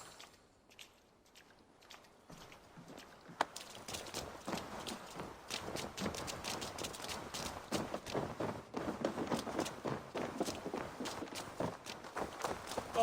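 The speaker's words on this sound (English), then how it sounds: "Basim, Eivor, to horse!" A horse gallops in Assassin's Creed Valhalla, with fast, steady hoofbeats pounding at close range and continuing for several seconds over faint ambient noise.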